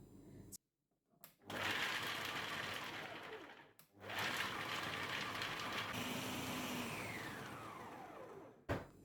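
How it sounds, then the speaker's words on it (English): Food processor blending dates and cashew nuts, loud close whirring motor in two long bursts separated by a short pause, with the pitch of the blade shifting as the mixture breaks down; no talking. "we're going to add our dates into the food processor, just like that"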